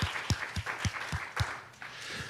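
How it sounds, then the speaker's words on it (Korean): A church congregation gives a short round of applause at a worship service, with several distinct low thumps of clapping over a steady, moderately loud wash of hands. "우리 하나님 앞에 영광의 박수로 드립니다."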